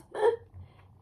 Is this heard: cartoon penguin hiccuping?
yes